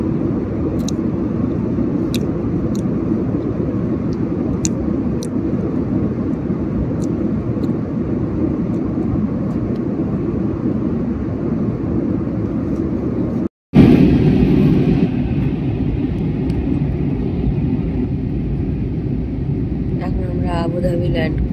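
An Air Arabia airliner lands at Abu Dhabi, its cabin filled with a loud, steady engine roar and rumble, with a sudden jolt and brief break before the noise continues; a voice speaks in the cabin.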